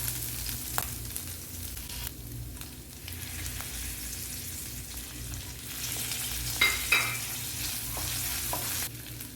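Garlic paste and curry leaves frying in a pan for a prawn kofta curry, an even close sizzle with occasional spatula taps and a brief louder crackling flare as leaves hit the oil, no speech.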